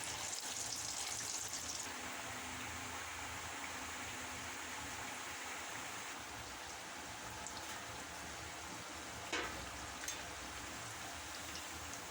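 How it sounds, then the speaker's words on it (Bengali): Potatoes fry in hot oil for beef biryani, giving a faint, steady sizzle that crackles like light rain, with a couple of brief sharper pops near the end. "তেলটা খুব ভালোভাবে গরম হয়ে গেলে ওর মধ্যে একটা একটা করে সবগুলো আলু ভেজে নিতে হবে।"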